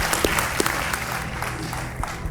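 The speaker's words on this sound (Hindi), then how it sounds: "तालियों के साथ इनका स्वागत किया जाए।" Studio audience applause on the Hindi quiz show Kaun Banega Crorepati welcoming a guest onto the set, a steady dense wash of clapping throughout with a few sharper claps standing out.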